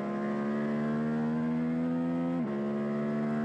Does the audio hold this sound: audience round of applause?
no